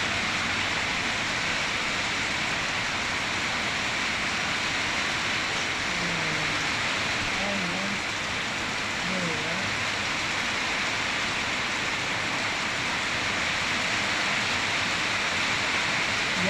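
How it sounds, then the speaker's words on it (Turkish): Steady rain hisses continuously in Kampot, Cambodia, an even wash of falling water that stays constant throughout, with a few faint chirps briefly in the middle. "yağmurun sesini duyuyorsunuz."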